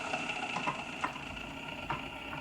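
A 1957 Sunbeam Mixmaster stand mixer runs with its bowl turning, a steady mechanical whir and hum with a few faint knocks, close and even.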